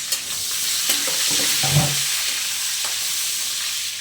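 Shrimp dropped into hot cooking oil for ginataang hipon, a loud steady sizzle and hiss filling the pan, with a few soft clinks and stirring knocks, close and continuous.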